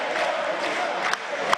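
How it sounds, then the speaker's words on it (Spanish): Deputies in the Argentine Congress applaud and cheer as a crowd, a brief, fairly loud wash of clapping and voices in a large chamber. "Los diputados aplaudiendo."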